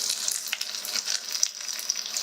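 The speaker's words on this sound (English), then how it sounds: "I'm going to add some olive oil to the pan. I'm also going to put my Swiss chard in." Swiss chard sizzles in hot olive oil in a pan, a steady close crackle and hiss with small pops that runs without a break for the whole stretch and has no voices over it.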